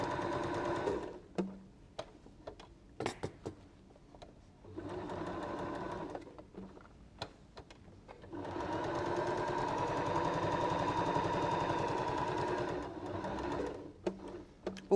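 A domestic sewing machine fitted with a purple-tip stretch needle stitches stretch fabric for a dinosaur taggy toy, running in short bursts with pauses, then one longer steady run, with faint clicks between.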